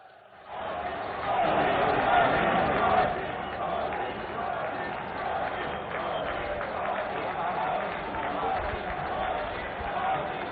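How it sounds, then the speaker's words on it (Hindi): A large crowd at a Tribal Pride Day event in Bhopal welcomes Prime Minister Narendra Modi with loud, sustained applause and cheering that stays dense and continuous throughout. "आइए इस अभिनंदन को अपनी करतल ध्वनि से गुंजायमान करें"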